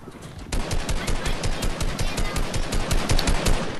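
Sustained automatic gunfire in a video game, a dense, loud, rhythmic volley of close shots that starts abruptly and continues without a break.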